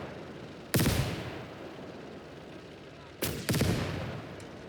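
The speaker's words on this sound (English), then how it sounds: "Or mortars." Mortar fire in the World War II game Call to Arms: Gates of Hell: two heavy booming blasts a few seconds apart, the second a quick double impact, each with a long rumbling decay over steady background noise.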